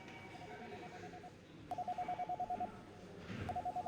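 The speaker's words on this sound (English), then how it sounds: "I hear phones ringing off the hook" Office telephones ringing in the video game Eve New Generation, heard as faint electronic ring tones that pulse in quick repeated bursts. The bursts come in two separate spells over a low background murmur.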